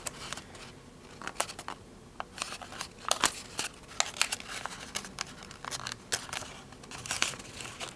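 Paper being creased into an origami valley fold makes soft, close crinkles and crisp snapping rustles in irregular bursts, separated by brief quiet gaps.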